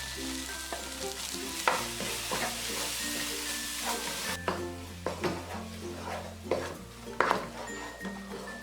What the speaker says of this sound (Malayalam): ഈ അരച്ചു വെച്ചിരിക്കുന്ന പേസ്റ്റ് ഇട്ട് ഇളക്കി കൊടുക്കാം